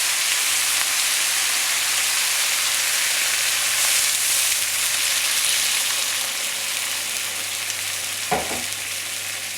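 Chicken broth poured into a hot pan with pork for pancit bato guisado sets off a steady loud sizzle and bubbling hiss, close by, with a short clatter near the end.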